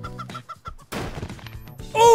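A chicken in the game Turbo Dismount gives short, quick clucks in a choppy rhythm, close and clear, followed by a rising squawk and a burst of noisy impact at the end.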